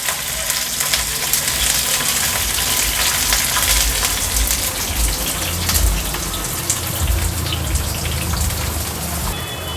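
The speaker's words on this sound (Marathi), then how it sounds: "आता लसूण आणि मिरची त्याचा कलर चेंज होईपर्यंत तेलावर छान मीडियम फ्लेमवर परतून घ्यायचे" Steady sizzling and crackling of garlic and green chilies frying in hot oil over medium flame, loud and close, continuing without pause; no voices.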